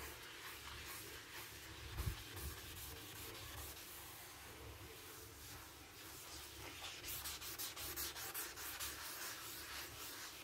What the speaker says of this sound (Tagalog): Kuskusin natin.